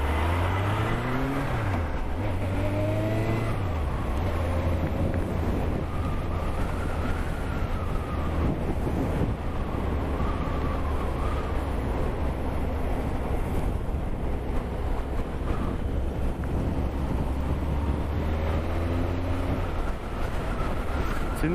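Suzuki GSX 1200 Inazuma motorcycle being ridden, its engine a steady low drone with rising and falling revs throughout, close up under heavy wind rush across the microphone and no talk.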